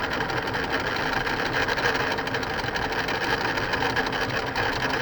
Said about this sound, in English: it's going to sew this pattern, and then it's going to come down and start sewing the second pattern